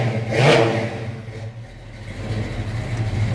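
Car with a pushed, tuned small-block V8 revving once sharply and then settling into a lower rumble, loud and close with no talking.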